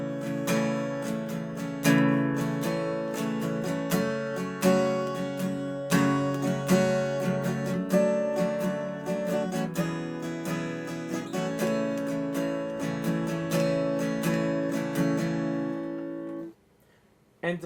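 An acoustic guitar strums a steady, unhurried chord progression, each chord ringing out in turn before the playing stops near the end.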